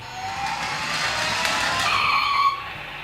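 A voice-controlled remote control car driving forward, giving a brief, fairly close rising whir and skidding hiss lasting a few seconds before cutting off.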